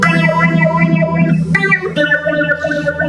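Electric guitar through a Mu-Tron Bi-Phase with both phasers running together, sustained chords swirling and sweeping, loud and steady with a brief change of chord midway.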